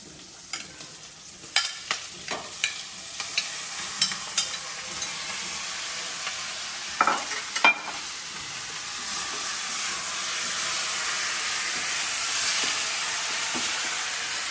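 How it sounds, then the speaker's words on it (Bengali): Chicken stir-frying with vegetables and garlic in a pan for a garlic pineapple chicken dish, a close, steady loud sizzle with brisk spatula scrapes and clacks early on, then a smoother hiss. "সবজিগুলো ভাজা ভাজা হয়ে গেছে, এবার আমরা চিকেনটা দেবো"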